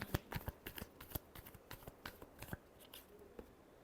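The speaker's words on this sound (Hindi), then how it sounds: "Last shuffle." A deck of tarot cards is shuffled by hand in quick, irregular bursts of crisp flicks and riffles, close and quiet, with no talking.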